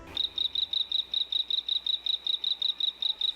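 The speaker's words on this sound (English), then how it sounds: "You may think that frogs croak, but he sort of chirps." A small poison dart frog chirps in a steady series of high, rapid pulses, roughly five or six per second, clear and close with no talking.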